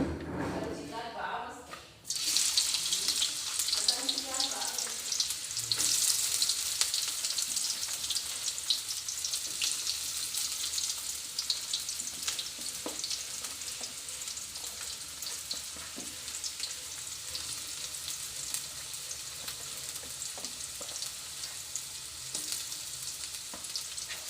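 Onions frying in hot oil for a potato curry, a steady loud sizzle with some stirring that starts abruptly after a brief quieter moment and then continues without pause.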